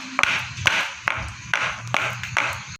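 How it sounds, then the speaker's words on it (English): A cake batter mold is tapped against a surface to knock out air bubbles, giving about six sharp, ringing knocks in an uneven rhythm, close and fairly loud, with no talking. "Now let's do the tapping technique."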